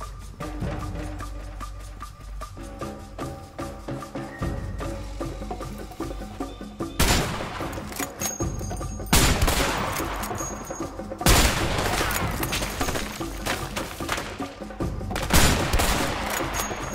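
Bursts of rapid gunfire crackle against a dense, noisy backdrop in the video game A Way Out, with repeated loud volleys and booms that sound synthetic, like a game soundtrack.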